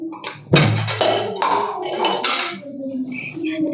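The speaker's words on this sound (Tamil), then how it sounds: "அடுப்பில் ஒரு பாத்திரத்தை வச்சு" Metal pot set on a stove before frying idli pieces in ghee: one sharp clank, then rattling and scraping contact close by, with a voice partly audible under it.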